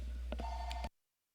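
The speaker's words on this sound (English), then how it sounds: "Ignore the phone." A telephone rings once, a short electronic tone with a couple of brief chirps, then cuts off abruptly into silence.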